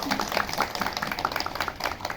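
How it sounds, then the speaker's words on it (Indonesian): An audience at a flag ceremony gathering claps for Bu Nunu, a steady, moderately close patter of many hands, continuous and fairly even throughout. "Tepuk tangannya untuk Bu Nunu."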